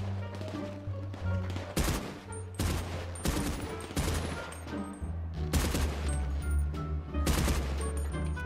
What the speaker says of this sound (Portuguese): Deve ter tiro lá